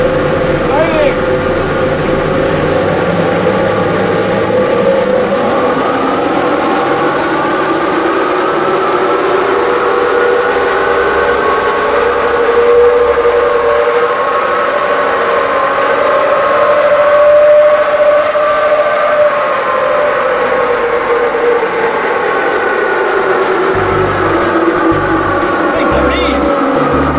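A 2017 Chevy Silverado pickup with a 6.2L engine running on a dynamometer, a loud continuous engine roar that climbs steadily in pitch, holds near the top, then winds back down.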